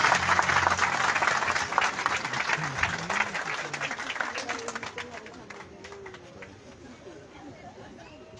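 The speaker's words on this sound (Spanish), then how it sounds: "Fuertes aplausos." Loud, sustained applause from an audience at an outdoor ceremony for the Día del Emoliente in Plaza Las Américas, with crowd chatter mixed in; the clapping gradually thins and fades toward the end.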